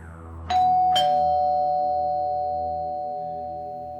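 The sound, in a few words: doorbell ringing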